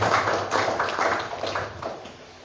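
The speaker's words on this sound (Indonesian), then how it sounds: "kita beri aplaus untuk kita" An audience at an indoor official gathering breaks into applause, a dense, loud wash of many hands clapping that fades slightly toward the end.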